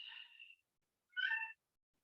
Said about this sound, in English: Kitty is into yoga today.